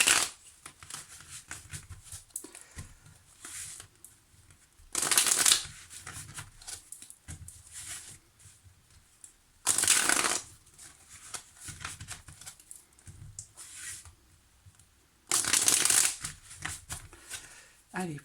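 Tarot cards shuffled by hand in four loud bursts of riffling at regular intervals, with someone speaking softly in French between them.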